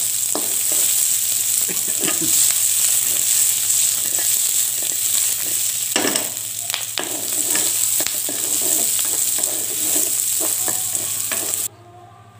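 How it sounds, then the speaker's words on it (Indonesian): Spices sautéing in a little oil for grilled catfish seasoning, a steady close sizzle with frequent scraping stirs throughout, ending abruptly near the end. "tumis dengan minyak sedikit saja hingga benar-benar layu dan aromanya"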